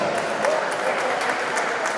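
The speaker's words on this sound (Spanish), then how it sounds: "Un fuerte aplauso para ellos." Applause for the referee team at the final of a senior men's first-division match, a steady dense wash of clapping from a crowd filling the whole moment without a break.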